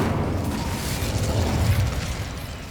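Fire spell cast in Hogwarts Legacy, a loud, roaring burst of flame that rushes and rumbles steadily for a few seconds, dense and close with no pause.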